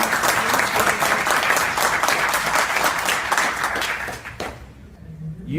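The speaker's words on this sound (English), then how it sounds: "please join me in saying thank you with some applause for these guys" Audience at a G-Fest monster convention applauding vendors, a dense burst of clapping from a crowd that fades out after about four seconds.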